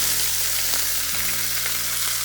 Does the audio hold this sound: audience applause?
no